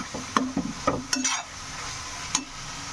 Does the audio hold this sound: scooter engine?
no